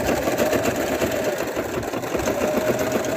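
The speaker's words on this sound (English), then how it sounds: "You can even hear the sewing machine is a little different with this material because it's a little thicker." A sewing machine runs steadily at close range, stitching a plush toy, its rapid stitching forming an even, continuous whir through dense, thick material.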